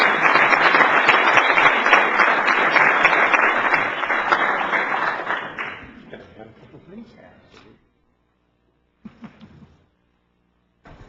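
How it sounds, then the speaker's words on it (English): Audience applause at a city council meeting, a loud sustained round of clapping that fades out over several seconds, followed by near silence with a few faint noises. "If you would join me in applause."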